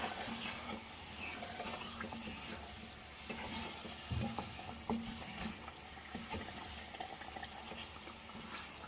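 Red chillies and salt being stirred in a frying pan, giving a steady low sizzle with soft scraping strokes and a few brief louder knocks, heard close and alone without any voices.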